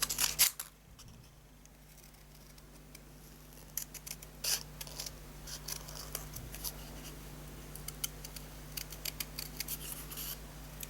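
Scissors snip through card again and again in short, crisp cuts, close up against a quiet background, with no talking.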